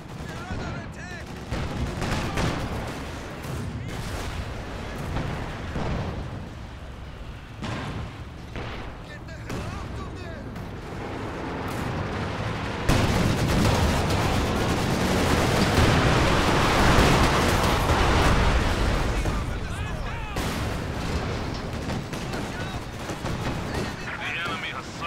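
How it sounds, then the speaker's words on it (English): Soviet artillery and other battlefield weapons in Company of Heroes 2 on the Long Way Home map fire in a dense, continuous din of booms and rattling shots that swells louder partway through and never fully stops. "Soviet artillery is reloaded and awaiting a target."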